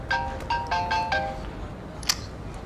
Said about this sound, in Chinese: 啊，电话。